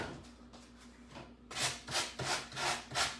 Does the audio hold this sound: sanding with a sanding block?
yes